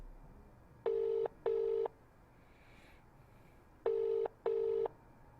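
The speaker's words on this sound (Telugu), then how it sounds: "రింగ్ అవుతుంది." Outgoing phone call ringback tone, two double rings a few seconds apart, clean and prominent over low background hiss.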